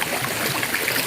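Water rushes with a strong current into a small cave-like hollow, a steady, close, hissing gush with no voices.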